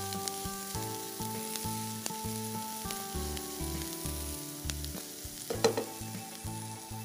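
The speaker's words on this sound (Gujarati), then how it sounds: "ડુંગળી ગુલાબી રંગની થાય ત્યાં સુધી સાંતળી" Chopped onions sautéing in a pan for upma, a steady soft sizzle with occasional stirring scrapes and a sharper clatter near the end, no talk.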